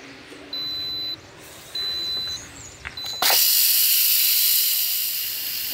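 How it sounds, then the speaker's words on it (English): A pressure cooker at a rainy car campsite is opened and its steam release erupts in a loud, sustained rushing hiss that stays strong to the end, after a few short electronic beeps and quiet clicks. "It always kind of startles me to open these pressure cookers."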